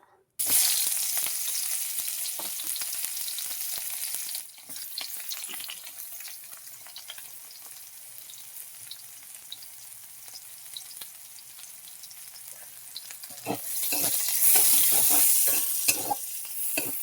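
Onion frying in hot oil in a pan for a fish, potato and kohlrabi curry, a continuous close sizzle that eases down mid-way and swells louder again near the end, with scattered clicks of a spatula.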